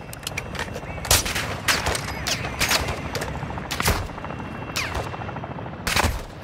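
Video game gunfire aimed at a boss, with rattling automatic bursts and sharper individual shots cracking out irregularly over a rumbling battle backdrop, loud and close throughout.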